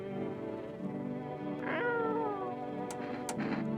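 A cat in the video game No, I'm Not a Human lets out a drawn-out meow over a humming ambient music bed, followed by a second shorter sound near the end.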